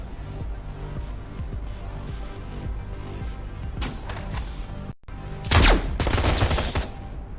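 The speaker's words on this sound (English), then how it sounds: "As the sounds of gunfire die down" Distant rattling gunfire in the video game Shadowrun Hong Kong rumbles for several seconds, then a sharp, loud burst of shots and automatic fire erupts close by.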